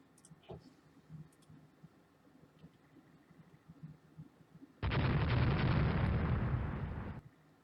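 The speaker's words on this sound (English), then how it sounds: "Montana has been indeed hit by a torpedo?" A torpedo strikes the battleship Montana in the naval strategy game Rule the Waves, a dense two-second burst of explosion noise that follows a stretch of quiet, faint game ambience.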